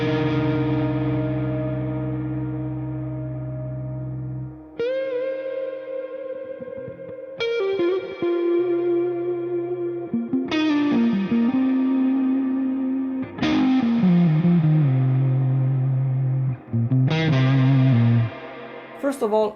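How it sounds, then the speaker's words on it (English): An electric guitar runs through a Walrus Audio Mako R1 digital compact reverb pedal, playing a sequence of sustained chords and notes, each struck about every two to three seconds and swelling into a long, washy tail. "WALRUS Audio Mako Series R1, a digital compact pedal that can seriously challenge the big box reverb pedal"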